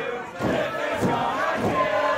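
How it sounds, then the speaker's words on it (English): A wrestling crowd at an independent show roars for Biff Busick in a rhythmic chant, with loud collective surges rising roughly every half second under a general din. "As you can hear the crowd here"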